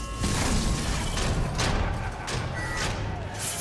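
Booming explosions from the Marvel's Spider-Man Remastered video game during a prison escape sequence, a dense continuous rumble of blasts and thuds lasting throughout, loud and close.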